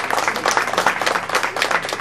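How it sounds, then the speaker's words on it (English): Audience applause rings out for a flock of marching flamingos at a bird show, a steady loud wash of many hands clapping throughout with no talk over it. "let's give them a nice round of applause and let them know they've done the right thing"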